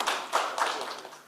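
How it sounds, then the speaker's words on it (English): An audience at a national address gives a brief burst of applause, dense clapping heard close and loud. "Let us clap for our counties."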